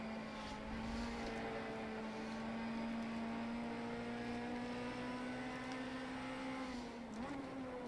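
Formula 3 race car engine in rFactor 2 at a 1960s Hockenheim circuit, a steady high droning whine holding nearly constant pitch from start to finish, with a brief shift dip near the end.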